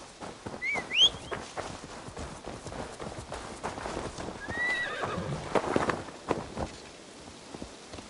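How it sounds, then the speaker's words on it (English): A horse in the video game Assassin's Creed Valhalla on PS5 whinnies twice, near the start and again midway, over a steady ambient game background with faint hoof clip-clops. "Where's my horse?"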